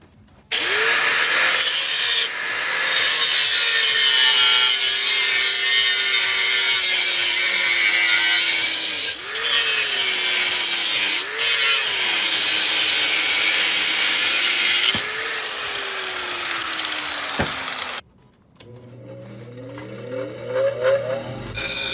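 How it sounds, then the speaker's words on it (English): Loud, continuous power-tool cutting and grinding on the ends of roughly 100-thou plate steel, a sustained whining rasp with pitch dips as the tool bites, then it stops and a lighter scraping follows in a workshop setting. "Went ahead and cut and ground the ends"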